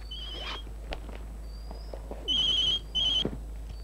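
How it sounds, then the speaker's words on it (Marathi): A cell phone rings indoors in a Marathi film scene, giving two short bursts of electronic warbling tone over a quiet room hum. "काय वाजलं ग? काही नाही, माझा सेल फोन आहे"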